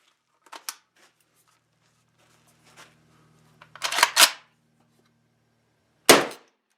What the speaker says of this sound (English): We're going to go ahead and dump this mag real quick.